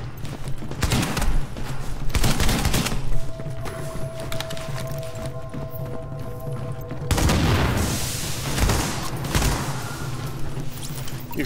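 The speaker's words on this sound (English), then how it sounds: "You're shooting at me." Gunfire from guns in a video game, repeated bursts of shots over a steady ambient bed, with louder clusters near the start and again in the second half.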